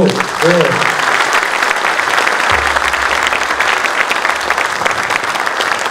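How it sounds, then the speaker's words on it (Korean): An audience applauds a youth orchestra, the Daejeon Junior Dream Orchestra, at its concert. Dense, steady clapping fills the whole span, a brief tonal voice sounds at the start, and a low hum enters partway through. "여러분 다시 한번 뜨거운 박수"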